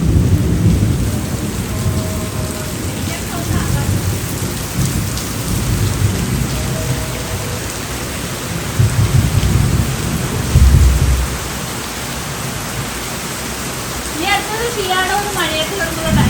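Heavy night-time rain pours steadily with low rumbling thunder rolling through the middle and later parts, close and loud, with brief faint voices and sounds of someone eating partly under the downpour.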